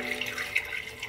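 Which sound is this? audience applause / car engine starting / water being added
water being added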